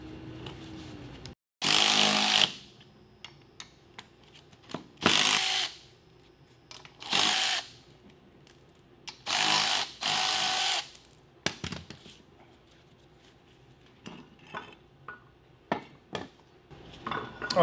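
Power tool undoing the upper mount bolts on a Tesla Model 3 suspension, sounding in several loud, sharp buzzing bursts of one to two seconds separated by pauses filled with quiet clinks and handling noises.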